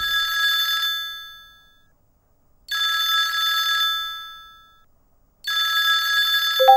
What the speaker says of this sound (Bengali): আর তখনই তার ফোনটা বেজে উঠল